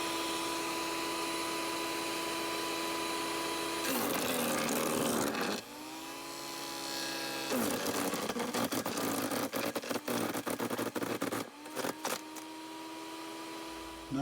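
A Sun Joe CJ602E 15-amp electric wood chipper runs loudly nearby, its motor whining steadily while shredding branches with leafy foliage causes bursts of rough grinding and crackling over about fourteen seconds.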